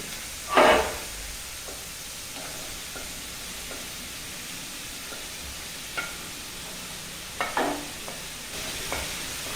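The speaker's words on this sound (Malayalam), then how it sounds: "ഇത് നല്ലപോലെ ഇളക്കിയിട്ട് സിമ്മിലിട്ട് ഈ മൂടി വെച്ച് കുറച്ച് നേരം വേവിക്കും" Onion, beetroot and carrot stir-fry in a pan under a quiet, steady sizzle, with a sharp scrape of the spatula near the start and a few lighter stirring clinks later.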